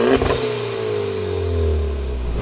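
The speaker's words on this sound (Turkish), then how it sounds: "Egzozumuz da zaten tam kıvamında sesi" A 210 HP VW Scirocco Stage 1 with a modified exhaust revs hard, its engine note rising and then falling in one loud, close burst.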